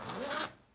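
A single quick pull of a zip on a Stanley FatMax backpack tool bag, a close, short rasping zip that fades out.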